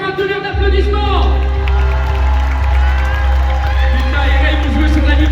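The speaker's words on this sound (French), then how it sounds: "faites-leur un tonnerre d'applaudissements" Crowd at a charity football match in a stadium in Amiens cheers and applauds loudly in a sustained roar, with whoops over a steady low rumble and some voices mixed in.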